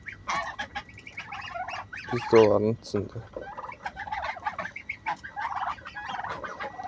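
Geese and turkeys calling at a farm where the birds are for sale, with repeated gobbles and honks from several animals, close and fairly loud, while a person speaks briefly among them.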